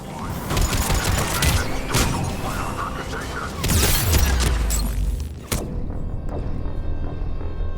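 Dense rapid gunfire and booms from a sci-fi shooter firefight at a checkpoint, loud and continuous with bursts and a heavy low thump midway.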